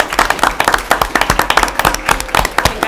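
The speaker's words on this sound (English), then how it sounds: "round of applause for." Applause at a city commission meeting, a dense burst of many hands clapping with sharp, rapid claps filling the room steadily for several seconds.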